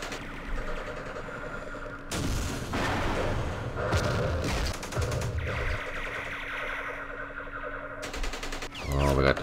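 Gunfire in the Vietnam war game Campaign Series Vietnam, set at the Battle of Ia Drang: dense, sustained bursts of automatic fire and booming artillery-like blasts that roll on for several seconds, then ease off and return in a heavier burst at the close.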